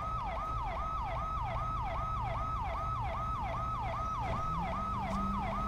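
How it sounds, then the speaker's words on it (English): A video-game police siren on a 2019 Dodge Charger wails, cycling up and down steadily over a low engine rumble, loud and close, with a brief added tone near the end. "let's get this siren turned off."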